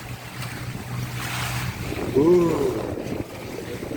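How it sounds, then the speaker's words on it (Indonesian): Strong wind roars and high sea waves slosh around a small fishing boat at sea in stormy weather, loud and continuous, with a brief grunt from a man partway through. "Ombaknya luar biasa ini. Tuh lihat, ombaknya."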